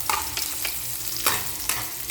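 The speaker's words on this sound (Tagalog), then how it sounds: "Brown na yung bawang. Para mabango sa kanin. Lagay natin yung sibuyas." Browned garlic and freshly added onion fry in a pan for sinangag garlic rice, a loud close hiss of oil punctuated by several quick scraping stirs at irregular intervals.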